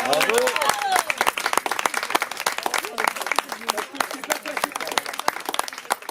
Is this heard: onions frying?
no